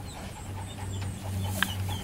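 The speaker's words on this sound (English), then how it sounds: "Good dog, Jenny. Good dog" A hunting dog pants steadily in the field after a retrieve, soft rapid breathing close by over a low steady hum, with no speech.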